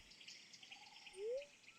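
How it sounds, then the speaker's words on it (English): Bird-like chirps from a boy in the game Stardew Valley: faint, thin whistled notes, one short rising tweet standing out briefly over a quiet background of soft insect-like hiss. "He makes bird sounds."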